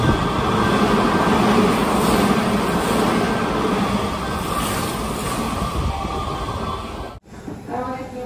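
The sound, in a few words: train passing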